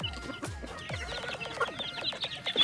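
Chickens being fed with scattered feed cluck and chatter in quick, repeated bursts, close and lively, with sharper calls rising toward the end.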